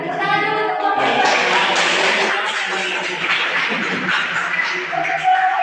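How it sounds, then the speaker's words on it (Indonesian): A classroom group claps and applauds for a group of students, a dense continuous patter of many hands close by, with voices mixed in. "tepuk tangan dulu untuk kelompok 2"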